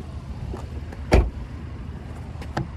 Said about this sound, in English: we can pop the trunk and we can hit that gas cap release